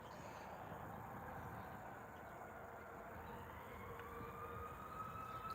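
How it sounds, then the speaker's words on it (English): A faint siren wails in the distance, a thin rising tone barely above a steady wash of background noise. "Ooh, we got sirens."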